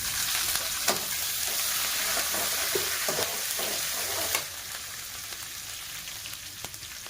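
Dried red chillies and curry leaves sizzle and crackle in hot oil, a steady dense frying hiss with sharp pops scattered throughout and a slight drop in intensity partway through.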